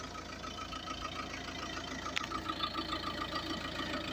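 A 2005 Volkswagen Touran with a 2-litre diesel engine idling, steady low clattering hum at moderate level, with a brief sharp tick midway and no speech.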